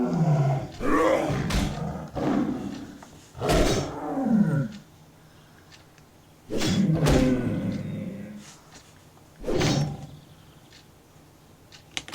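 Mountain cougars in the WoW Classic game let out deep, loud roars in several separate bursts with heavy thumps between them and a low game background underneath.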